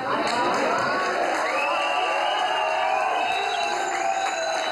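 Applause and cheering from a crowd of young people at a disco during a police raid, steady loud clapping with whoops mixed in, continuous throughout, with a tonal hum running underneath.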